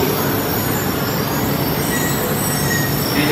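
A Joetsu Shinkansen E4 series Max Toki double-decker train, 16 cars, pulls into a Tokyo station platform with a loud, steady rushing roar and high squealing wheels throughout.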